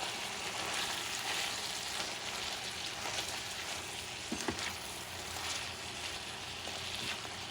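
Spaghetti and ground meat being stirred in a frying pan, a steady close sizzle with soft scraping and stirring movements throughout, no voices.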